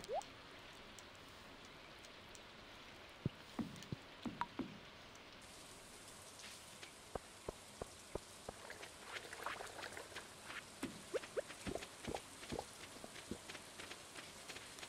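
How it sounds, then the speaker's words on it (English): Rain falls in the Stardew Valley video game, a faint steady patter with scattered distinct drop ticks that grow denser toward the end, with no talking. "Hey, it's raining."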